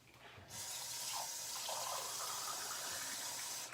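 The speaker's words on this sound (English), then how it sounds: "I'm going to add a little bit of water" Tap water runs into a pot of chili, starting abruptly as a steady gushing stream that pours continuously for a few seconds before cutting off.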